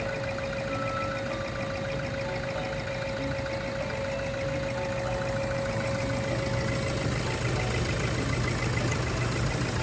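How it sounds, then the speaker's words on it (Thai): A Toyota Hilux Vigo 3.0 diesel pickup engine idles steadily and loudly with an even, knocking rumble that continues throughout without pause. "เครื่องยนต์เสียงเพาะมาก ๆ เลยครับ ตัวเครื่องยนต์เองนะครับก็ เดินเรียบนะครับ"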